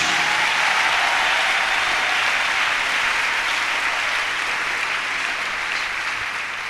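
A church congregation applauds to acclaim Jesus during a healing and miracle testimony service, producing dense, loud, sustained clapping that fills the room and fades slightly toward the end.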